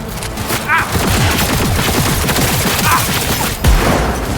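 Rapid sustained gunfire from the video game Cyberpunk 2077, with dense overlapping shots and heavy booms filling the clip, loud and continuous with a few brief shouted voices mixed in.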